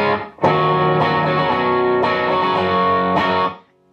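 Electric guitar run through an Eleven Rack with reverb and parametric EQ switched off, a few sustained distorted chords struck in turn and left ringing, loud and close, then cut off.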